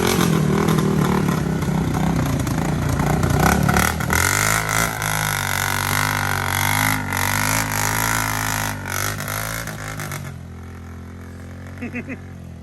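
A Honda 300 6x6 ATV's engine revs loudly and steadily as it is driven, pitch rising and falling through gear changes and dropping away near the end, with a few rattling clatters.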